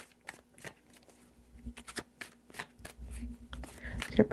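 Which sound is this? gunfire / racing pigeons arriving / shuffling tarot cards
shuffling tarot cards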